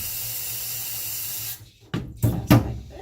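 Water from a tap runs in a steady hiss as a cup is filled for bathing a puppy, then cuts off and gives way to a few brief splashes and pours nearby.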